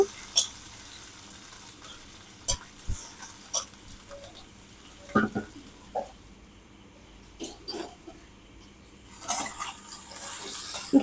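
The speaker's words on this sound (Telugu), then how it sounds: "ఇక్కడైతే ఇదిగోండి వంకాయ ఫ్రై అయితే వేసుకుంటున్నాను" Eggplant (brinjal) pieces fry in a pan, soft crackles and sizzles broken by scattered clinks and scrapes of stirring, close and fairly quiet.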